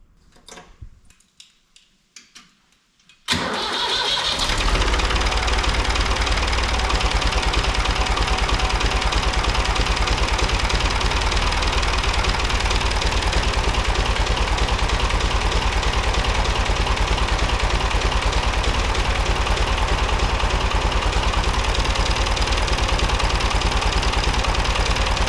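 A David Brown 880 tractor engine with a new manifold cranks from cold and catches after a few seconds of quiet, then settles into a loud, steady diesel idle with a rhythmic knock that runs to the end.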